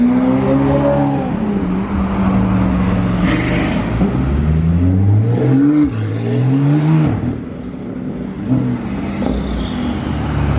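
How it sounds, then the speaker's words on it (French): A Ferrari F8 and other sports cars with open exhausts revving, including a turbo car, loud and close with rising and falling engine notes, repeated throttle blips and passing whooshes, no talking. "là on a des voitures échappement libre de tous les côtés. Il y a la turbo et écoutez cette F8"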